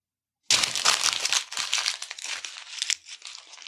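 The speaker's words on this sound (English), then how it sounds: "You guys hear the paper bouncing around my new floor?" Paper crinkles and bounces around on a new floor, a close, crackling, rustling burst that starts suddenly and then settles into softer, scattered crinkles.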